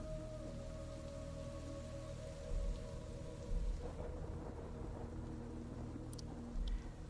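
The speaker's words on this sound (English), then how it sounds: "As a crack of thunder echoes through the area, a flash of light fills the clearing." Steady rain falls on surfaces under a low rumble of thunder that swells in a few soft, distant rolls, with brief high drips above the dense wash of drops.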